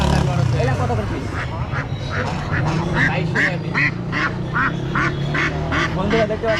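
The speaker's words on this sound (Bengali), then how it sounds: "এখানে চীনা হাঁস, অনেক সুন্দর সুন্দর চীনা হাঁস।" Chinese ducks for sale at a market ahead of Eid-ul-Adha quack in repeated nasal bursts, several birds calling close by in a steady, busy rhythm amid crowd noise, with people talking over them.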